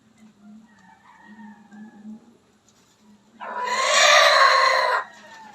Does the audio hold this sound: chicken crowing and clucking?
yes